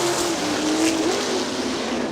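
Sprint cars racing at Kokomo Speedway at the green flag, a loud, continuous roar of engines packed together with a high whining pitch that bends as the cars power around the dirt oval.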